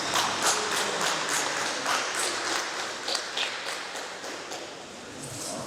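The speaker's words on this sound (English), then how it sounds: "So can I please ask us for a resounding clap?" Audience applause at an evening gathering of a University of Lagos group, a sustained wash of clapping with sharp individual claps popping through, steady and fairly close throughout.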